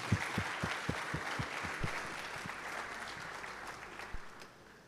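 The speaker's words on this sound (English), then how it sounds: "Please, can we give him another round of applause?" A symposium audience applauds at an anniversary celebration, with a few distinct close claps over a broad wash of crowd clapping that gradually fades out.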